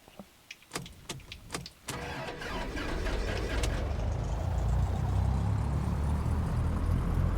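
A light aircraft's piston engine starts in the X-Plane 12 flight simulator: a few sharp clicks and ticks, then the engine catches about two seconds in and settles into a loud, steady, full-bodied roar that runs to the end.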